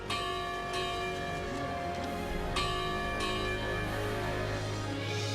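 The Freedom Bell, a large historic bell on the Gulf Coast, rings out loud and sustained, its struck tones overlapping into a continuous humming resonance with a few fresh strikes.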